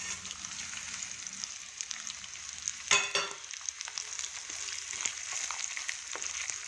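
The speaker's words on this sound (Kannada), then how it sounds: "ಒಗ್ಗರಣೆ ಸಾಮಾನು ಹಾಕೋಣ" Quiet hissing sizzle of tempering spices frying in hot coconut oil, with a brief sharp crackle partway through before the faint steady fizz resumes.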